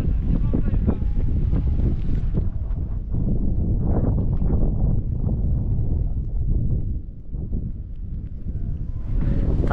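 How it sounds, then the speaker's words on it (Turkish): Strong outdoor wind and stormy weather with rain, buffeting the microphone in a steady loud roar with gusty bursts throughout. "Yağmur, fırtına, rüzgar."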